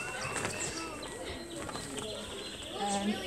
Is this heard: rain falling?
no